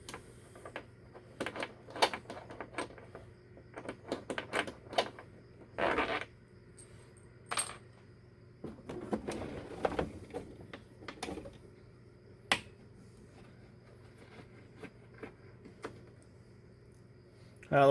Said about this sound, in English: 4mm Allen wrench to take these screws out.